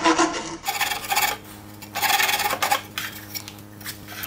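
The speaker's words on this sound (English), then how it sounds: "I'm going to use a file on that infill just because it's a little more controllable on material that's as hard as that CA glue" A hand file rasps across hardened CA glue infill on an MDF dust scoop in rhythmic back-and-forth strokes, close and fairly loud, each stroke a gritty scrape separated by short pauses.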